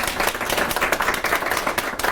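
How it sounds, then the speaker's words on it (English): A workshop audience at an in-person mini-conference talk in Bochum gives a short round of applause for organizers Camille and Albert, dense steady clapping throughout. "I would just like to give a round of applause for Camille and Albert for organizing this very nice mini-conference"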